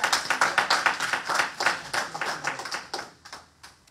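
Congregation in church clapping their hands in a fast, rhythmic beat, loud and close at first and gradually thinning out and fading toward the end.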